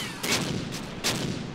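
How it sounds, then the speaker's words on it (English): Enemy mortar fire in a WWII strategy game set in the Gateway to Caen campaign: two close, loud thumping bursts with hissing tails, about three quarters of a second apart. "Ooh, they're firing mortars at us."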